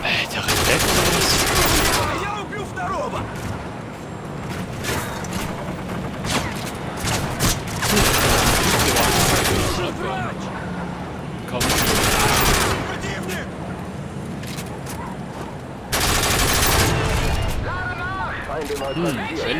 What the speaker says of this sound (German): was schießt du denn jetzt schon auf mich?